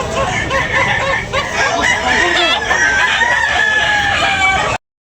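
A white Kelso gamecock rooster crows loudly and close, a long strained call among clucking fowl and faint background babble, ending in abrupt silence.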